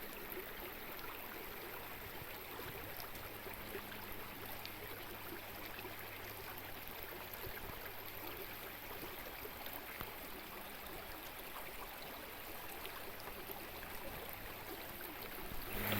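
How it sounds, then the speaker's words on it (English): Uvas Creek in Uvas Canyon rushing quickly downstream, a faint, steady watery rush that runs on unbroken and swells slightly louder at the very end. "We hear the sound of Uvas Creek get louder the further we walk."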